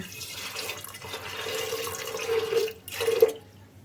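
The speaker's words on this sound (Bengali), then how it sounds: "পরিমাণ মতন পানি দিয়ে দিচ্ছি" Water pours in a steady stream into a pressure cooker holding chickpea lentils for halwa, a close, continuous splashing that swells and gurgles near the end before cutting off.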